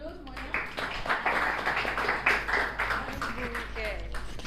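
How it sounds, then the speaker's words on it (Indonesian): A classroom of students clapping together for a presenting group, a quick burst of applause mixed with chatter and voices, fairly close and lively. "Oke, tepuk tangan dulu semuanya."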